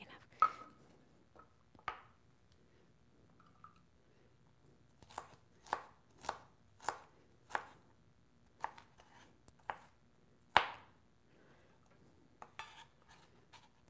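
Knife strikes chop ingredients for a raw vegan not-tuna dish, a run of crisp, evenly spaced cuts against a board with a few scattered single knocks, close and fairly quiet, no voices.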